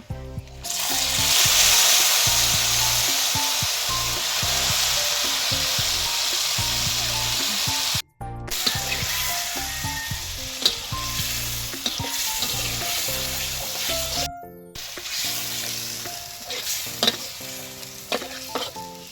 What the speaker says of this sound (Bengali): এবার মাংসটা কষতে দিয়ে দেবো।